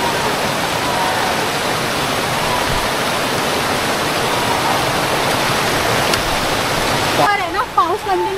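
Vasundhara waterfall at Bhandardara, running strong in the rain, gives a loud, steady broadband roar close by. A voice speaks briefly near the end.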